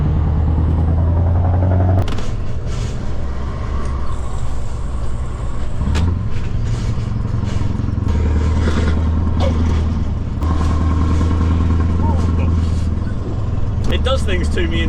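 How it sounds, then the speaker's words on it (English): A straight-piped V8 with side-pipe exhaust rumbling through a road tunnel, a loud, continuous deep drone echoing off the walls throughout, with someone talking over it. "ain't nothing better than a side pipe in the tunnel"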